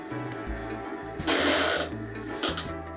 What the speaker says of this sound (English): when you turn it on, the drum barely goes around